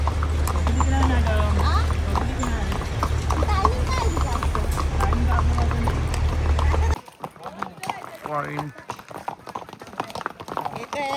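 Horses clip-clopping at Matheran near Neral, hooves sounding under loud ambient noise and constant chatter, then continuing more faintly once the background drops away, with people talking throughout.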